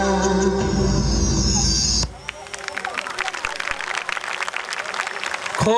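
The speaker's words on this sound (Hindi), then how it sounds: "खूब जोरदार तालियां बजाइए।" After a song at a Beti Bachao Beti Padhao event, an audience breaks into loud, sustained clapping and cheering once the music cuts off, with crowd noise mixed into the applause.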